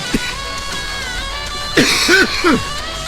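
After a quiet stretch with faint background hum, a few short, throaty coughs come close together near the end.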